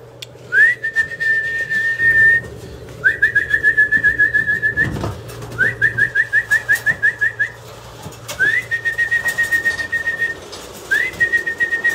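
Racing pigeons outside at a one loft race, with repeated short rising whistle-like calls in several bursts over a steady low hum and a brief thump partway through, no talking.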